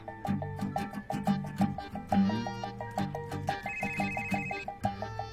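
A phone ringtone plays loud and close: a repeating electronic melody of bright bell-like tones in a steady looping rhythm, with no talking over it.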